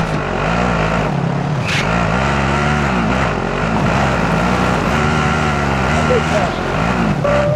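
A vehicle driven in the video game Warzone, its engine droning steadily and loud throughout with rising and falling pitch as it revs, while players talk over it.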